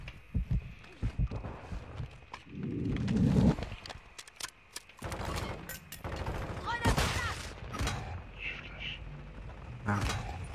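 Gunfire in a first-person shooter video game, with scattered shots and bursts at moderate distance mixed with game effects while players talk over it.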